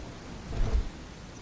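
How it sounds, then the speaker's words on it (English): Rain falling in the video game Bellwright, a steady soft wash of noise with a brief low rumble in the middle, no voices. "Oh, it's raining."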